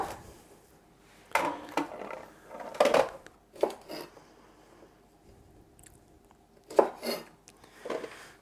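Knife cutting the ends off green beans on a board, a series of separate crisp snaps and chops in uneven clusters with quiet gaps between them, close and clear.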